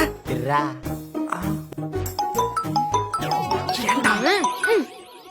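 A mobile phone rings with an incoming call, playing a bright melodic ringtone of chiming, ding-dong notes that rise and bend over about five seconds, loud and close, with faint voices.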